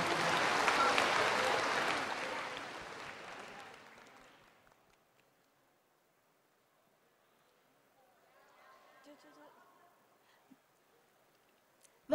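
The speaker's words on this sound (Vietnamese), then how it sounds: "Một tràng pháo tay nồng nhiệt" Audience at a televised dance competition gala finale bursts into loud applause to welcome a contestant; the clapping swells, then fades away over about four seconds into near silence broken by faint scattered sounds and a sharp noise at the end.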